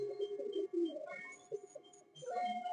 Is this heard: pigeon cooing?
yes